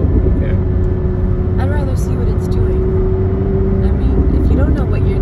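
McLaren 765LT engine droning steadily at speed with a sustained low rumble and a rising tonal whine, heard from inside the car while people talk over it.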